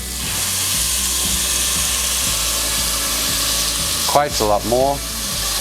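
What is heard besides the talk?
green onion and garlic frying in a pan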